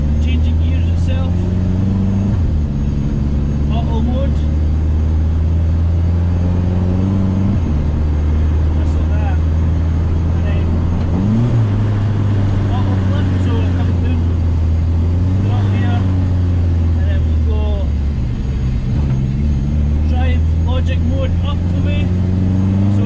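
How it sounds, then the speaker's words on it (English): A Mazda RX7 fitted with a K20 engine and DCT gearbox pulling away under light throttle, its loud engine drone climbing in pitch, dropping at each gear change and rising again, with a person talking over it. "give it a little bit of throttle, pulls away like a normal car"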